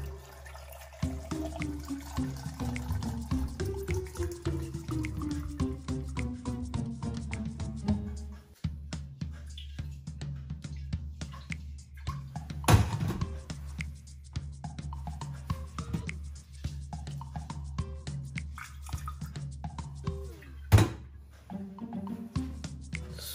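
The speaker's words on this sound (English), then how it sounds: "Then I can pour inside my brine mixture." A brine mixture for salted eggs is poured into a jar as a steady, gurgling stream that runs for many seconds, broken by a couple of sharp clinks against the glass.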